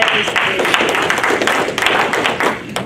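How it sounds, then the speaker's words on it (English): Applause for a volunteer at a 2019 benefits meeting, a dense, steady wash of clapping from a crowd that carries loudly for about three seconds with no talk over it. "Give Cindy a round of applause."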